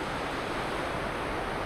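Continuous roar of rushing river water in the Deil's Cauldron ravine at Glen Lednock, a dense, loud, unbroken wash with no voices.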